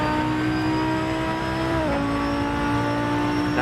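Lamborghini race car in a GT2 racing video game, its engine howling continuously at high revs with a brief dip as it shifts gears, then climbing again, loud and close with no speech over it.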